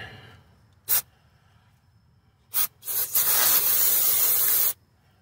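Brake cleaner sprayed onto engine parts during harmonic balancer and front crankshaft seal work on a 2006-2013 Lexus IS350/IS250: two short bursts, then a loud, close hiss held for about two seconds, with quiet between.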